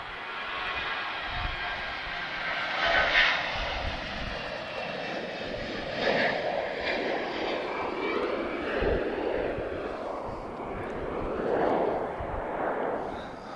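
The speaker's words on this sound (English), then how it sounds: "A lovely departure from Air France." An Air France Airbus A321 jet departs Lisbon Airport for Paris Charles de Gaulle, its engines a loud, sustained roar that rises and swells in waves throughout.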